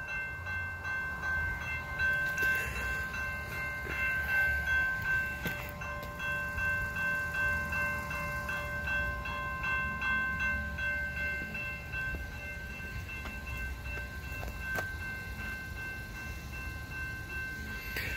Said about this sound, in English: I think this train is just waiting for track clearance or something.